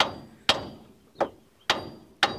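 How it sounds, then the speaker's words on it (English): Five sharp metallic hammer strikes at uneven intervals on a 2005 Ford Transit Connect's front suspension, knocking the hub and arm free during a front wheel bearing change, each ringing briefly before fading, close and clear with no talking. "now we're going to hit this again with a hammer just to break it free"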